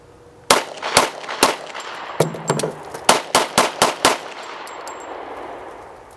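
Gunshots from a firearm at about 25 feet in a sheriff's demonstration, three sharp reports, then metallic clicks of a magazine reload, followed by a rapid string of six more loud shots with brief echoing tails.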